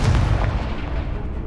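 A Confringo fire spell blast in the Hogwarts Legacy video game, a loud booming burst that rumbles and decays over about a second and a half, with no speech.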